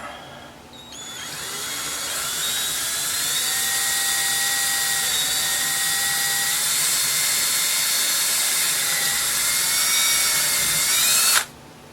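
A power drill bores a screw hole into a wooden drawer, a sustained close high-pitched whirring whine that shifts slightly in pitch, running for about ten seconds before stopping abruptly.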